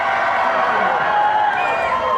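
Dense crowd noise at the Iowa State Fair, a steady roar of many voices with cheering blended in, loud and continuous throughout with no single voice standing out.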